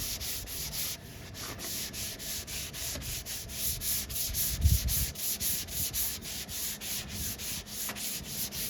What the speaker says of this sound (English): I'm gonna have to change this sandpaper pretty soon here